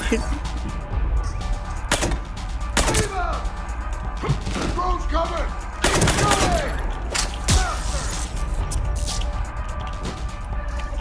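Gunfire in the Mass Effect 3 video game, with repeated bursts of weapon shots and impacts amid synthetic game effects and a steady background hum, several loud volleys spread irregularly across the stretch.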